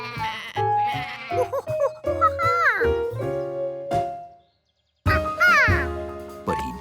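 Cartoon sheep from Curious George bleating as it escapes: a run of loud, close, wavering bleats, broken by a short silence before another burst.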